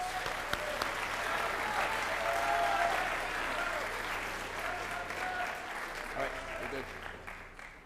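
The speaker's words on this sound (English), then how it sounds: "Let's give these folks a round of applause for their accomplishments." An audience at a senior class awards and recognition ceremony applauds steadily for several seconds, a dense, even wash of clapping that tapers off near the end.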